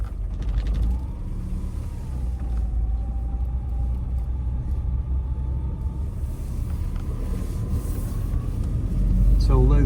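A 1973 Citroen DS D Super5 rolling along slowly in gear, its engine a steady low rumble with mechanical creaks and rattles, a faint whining tone running through it.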